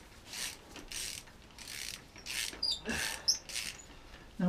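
A ratchet tightens the drop link nuts on a 2004 VW Polo, giving several bursts of rapid, close clicking, each a second or less, separated by short pauses, with faint metallic clinks between them.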